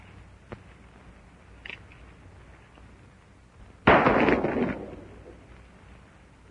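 An old gun fires once in a 1939 western film, a single loud blast with a rumbling tail, preceded by a couple of faint clicks or knocks in a quiet, hissy old soundtrack.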